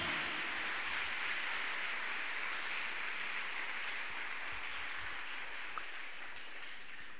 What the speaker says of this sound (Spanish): dale, dale aplauso al Señor.